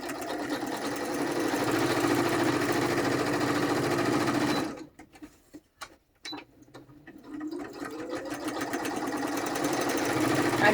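A sewing machine runs steadily, straight-stitching around a collaged book-page pocket with beige thread, its motor whirring loud and close, briefly stopping midway with a few clicks before starting up again.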